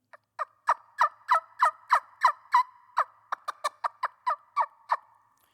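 A carbon fiber trumpet turkey call, made as a substitute for a cane trumpet, imitates a turkey in a run of about eighteen clear yelps. They come quickly and evenly, close and fairly loud, with silence between them.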